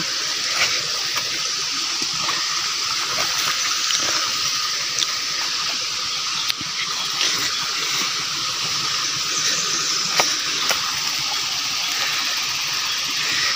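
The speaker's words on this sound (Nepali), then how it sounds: "यो चाहिँ खोला हो" Steady rushing water of a flowing hill stream in rural Nepal, continuous broadband hiss throughout with no voices, fairly close.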